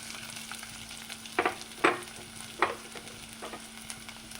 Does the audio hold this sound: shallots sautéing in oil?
yes